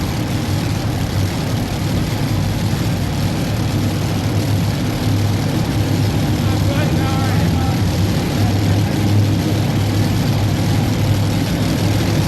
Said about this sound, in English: Bill Leisner, out of Weldon, Illinois, driving the Dirt Slinger as he comes to the line right now.